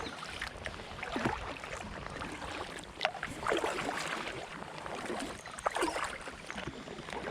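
An inflatable drop stitch kayak is paddled along the River Ouse through York, with soft rhythmic paddle splashes and water swirling close by against light wind noise.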